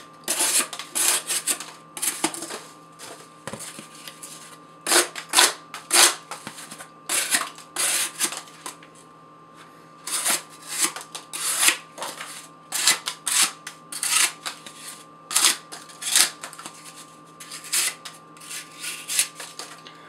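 A Microtech Socom Elite knife with a 5mm thick Duratech 20CV blade slicing cardboard in a long series of crisp, scraping cuts, each burst separated by short pauses, close and clear with no talk.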